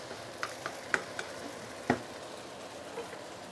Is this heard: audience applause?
no